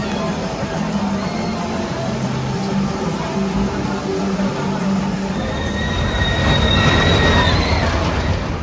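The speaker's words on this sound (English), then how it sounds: "it's a mine train" Colorado Adventure mine train roller coaster at Phantasialand rumbles loudly and continuously, with rattling track noise and squealing wheels building toward the end.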